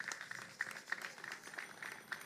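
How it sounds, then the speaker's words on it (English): Audience applause for guests from Panama and Colombia at an Emancipation Day morning gathering, a faint, steady patter of many hands clapping for a couple of seconds with a few sharper claps standing out. "let's give them a round of applause"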